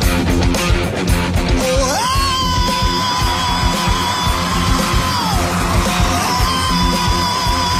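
Opening scream of a rock song sung by a contestant on The Voice, a long, loud, sustained wail held for several seconds and then sliding, over pounding band backing with crowd noise beneath.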